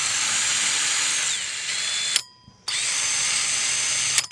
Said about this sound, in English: I'm gonna run my hole saw backwards so that it cuts through this nice and evenly.